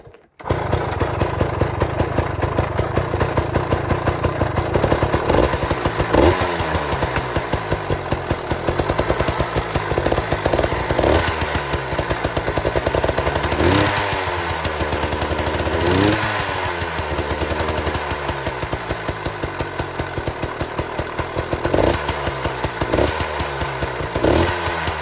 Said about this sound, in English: this exhaust, it sounds the same, but it's a lot more raspy whenever you're on the throttle